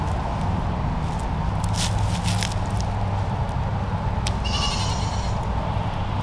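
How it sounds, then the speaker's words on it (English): Baby goats bleat in a few short, high calls near the middle and end, heard over steady rustling background noise. "let's say hi to my baby goats."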